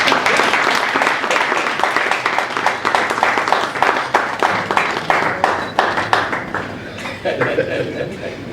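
Audience at an awards ceremony giving a sustained round of applause, dense clapping with a few chuckles mixed in, fading out over the final seconds as a voice begins.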